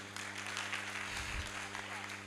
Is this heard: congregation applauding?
yes